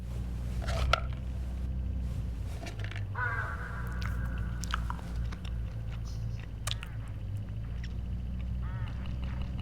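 A character eats in the mystery video game HitchHiker, with soft chewing and munching over a steady low hum and scattered small clicks and taps.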